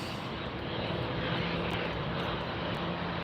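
Airliner jet engines drone steadily at LAX as a Southwest plane taxis, a continuous broadband roar heard from a distance with no talking.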